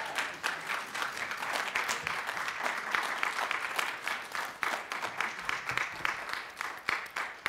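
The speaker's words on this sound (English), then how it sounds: "we owe her a standing round of applause" Sustained applause from a standing audience at a university event at Albany State, dense rapid clapping holding steady and fairly loud throughout with no voices on top.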